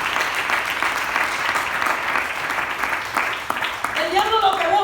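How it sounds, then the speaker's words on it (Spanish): Church congregation clapping during a Spanish-language sermon, steady dense applause throughout, with a voice rising over the clapping near the end. "Dele palmas al Señor."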